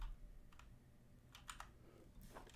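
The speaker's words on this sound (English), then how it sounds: "I'm typing like off to the side. My Bluetooth keyboard's like not responding." Soft, faint clusters of key taps from a Bluetooth computer keyboard, a few quick bursts spread unevenly over a quiet room, with no talking.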